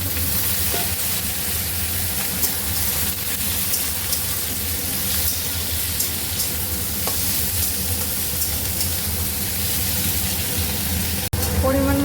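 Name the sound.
chopped vegetables frying in a pan for sambar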